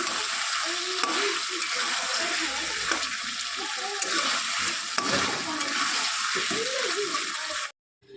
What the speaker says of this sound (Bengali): আলুটা ভাজছি এদিকে।